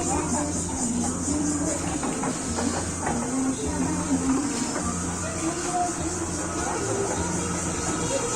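A small ride train runs at the Bangladesh National Zoo in Mirpur with a steady rumble and hiss and a faint rhythmic clatter throughout, while voices murmur in the background.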